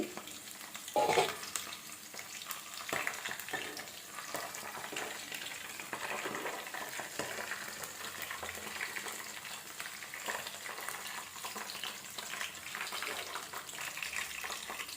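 Dry red chilies and garlic frying in a pan in a home kitchen, a steady moderate sizzle after a brief clatter near the start, continuing evenly without talk.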